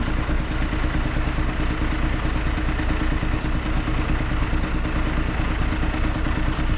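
Four motorcycles come along a rough Moroccan desert track, their engines making a steady, droning clatter that holds at a constant level with no talking.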